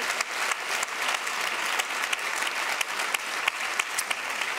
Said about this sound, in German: Ja, ein großer Applaus an Laura.